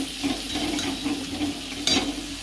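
Spice masala fries in oil in a pan for a fish curry, a continuous close sizzle with a brief scraping stir near the end.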